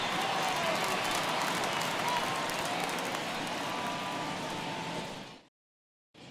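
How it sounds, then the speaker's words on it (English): Home crowd in a virtual ballpark in MLB The Show 21 giving an ovation as the pitcher departs, a dense steady roar of applause and cheering for about five seconds before cutting to brief silence. "he receives a nice ovation from this home crowd"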